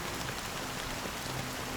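Rain falling in the video game Honkai: Star Rail, a dense, steady patter of drops on surfaces that holds constant throughout without speech.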